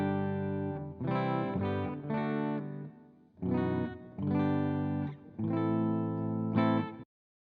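An electric guitar on a clean amp setting with a little reverb, played through the bridge pickup in strummed chords and short phrases, separated by brief gaps before ringing out and stopping.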